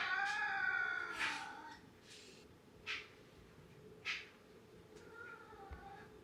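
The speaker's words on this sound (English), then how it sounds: "you can hear my cat underneath the table calling at the dog." On a farm, a cat hidden under a table meows and caterwauls at a dog in a few drawn-out, faint cries spaced apart, with quiet room noise between them.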